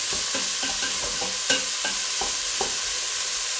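Onions tossed into a pan of browning meat for a vegetable soup, a constant sizzle with rhythmic stirring scrapes and a few sharper clacks, close up and without talk.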